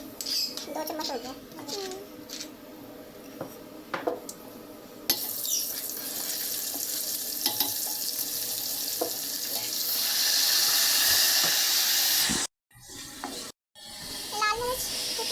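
Garlic ginger paste with cumin, crushed red chili and spices frying in hot oil for Lahori chanay, first with scattered clinks and stirring, then a loud steady sizzle with brief interruptions, while a voice talks at times.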